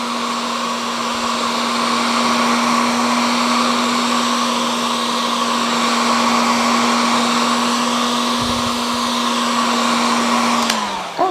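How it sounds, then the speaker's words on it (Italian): A handheld hair dryer runs steadily and close, blowing warm air over freshly glued furniture edging on an old bed being repainted, a constant loud whir with a strong steady hum, then a brief click as it switches off at the end. "lo scaldo leggermente con il phon, in modo che la colla tiri meglio"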